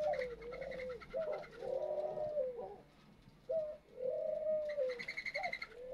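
A tame white-winged dove in a breeding aviary gives soft, close cooing phrases, two longer drawn coos with short notes between, quiet and alone.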